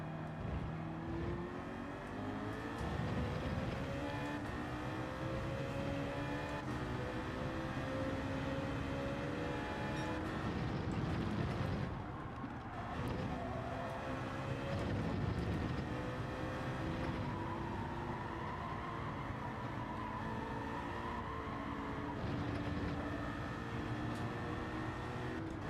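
A BMW Z4 race car engine in Gran Turismo 7 at Fuji drones continuously, with rising and falling harmonic tones as it revs through gears and a brief dip mid-run, loud and sustained with no talk.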